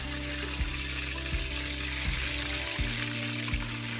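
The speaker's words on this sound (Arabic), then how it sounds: "وفي زيت سخن هنحط فيه الشريمبس" Shrimp fry in hot oil with a constant bright, hissing sizzle, close and steady. Low thumps recur about every second beneath it.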